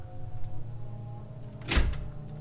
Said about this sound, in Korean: 낡은 문이라 꽤 삐걱거린다.